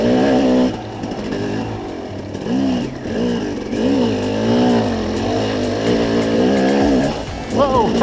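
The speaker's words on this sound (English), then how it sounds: "the 250 is an awfully fun bike to ride" A KTM 250 EXC two-stroke enduro motorcycle is ridden on a trail, its engine revving up and down through rising and falling pitch sweeps, loud and close, with wind buffeting throughout.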